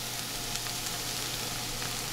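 Tomato paste and flour sizzle steadily in a hot pan while cooking for a cottage pie, a constant close frying hiss with no talking.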